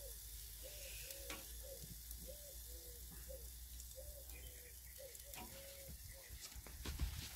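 Bacon sizzles on a barbecue grill in a quiet, continuous crackle and hiss, with faint chirps in the background.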